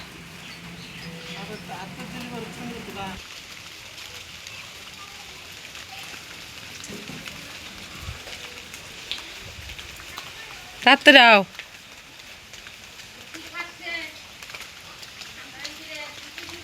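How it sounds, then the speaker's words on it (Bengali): Steady rain patters throughout on an outdoor surface, a continuous hiss under scattered nearby voices and talk, with a brief sharp louder noise cutting in partway through. "বৃষ্টি হইতেছে"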